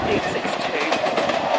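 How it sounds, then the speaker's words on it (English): A Sprinter passenger train approaches on the Breckland Line, a brief, steady rail rumble heard at moderate distance while people talk over it. "And in the distance I see another sprinter. Train, where? It's coming! There's a train!"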